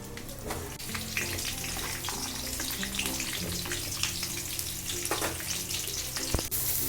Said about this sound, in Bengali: এবার যে তেলটা আছে ওই তেলটার মধ্যে আমি আগে ফুলকপিগুলোকে ভেজে নেব।